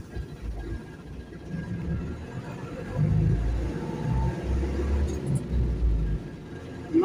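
A loaded truck hauling mineral water rumbles steadily on a highway, a low continuous engine drone swelling slightly as it pulls, with no talking over it.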